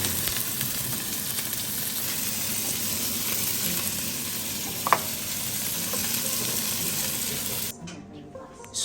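Noodles with mushrooms, bean sprouts and shrimp stir-fry in a pan, giving a dense, steady hiss with a brief clank, then cutting to a quieter background near the end.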